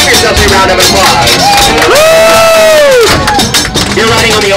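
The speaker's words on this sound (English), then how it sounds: "You guys have survived 700 stairs. Give yourselves a round of applause." Ride passengers in Marvel Cave cheering and whooping loudly at close range, with rising shouted cries and hollers over a dense crowd din for several seconds.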